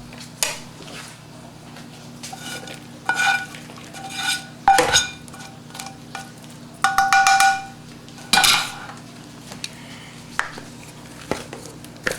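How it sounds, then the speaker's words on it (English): Steamed sticky rice being mixed with other ingredients in a bowl for a vegan Chinese New Year dish, heard as irregular clanks and scrapes of a utensil against the bowl, close and clear, with quiet stretches in between and no speech. "Now it's time to take the steamed sticky rice and mix it with our other ingredients."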